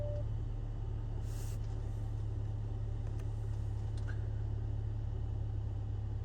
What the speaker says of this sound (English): you're gonna see it idle up more than normal for a warm car.